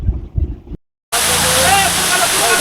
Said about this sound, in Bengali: পাহাড়ি এক ঝর্ণার জলের মধ্যে দিয়ে।